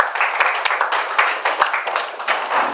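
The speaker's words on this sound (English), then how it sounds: "Oh, sorry, we can clap." An audience claps after a talk, a modest burst of scattered hand claps, fairly close and steady, with no voices over it.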